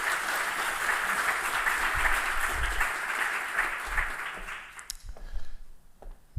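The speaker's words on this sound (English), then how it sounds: "I would like to have a very warm round of applause for Professor van Aalst." A lecture audience gives a lecturer on climate resilience a sustained round of applause, a dense steady clapping that thins abruptly near the end into a few scattered claps.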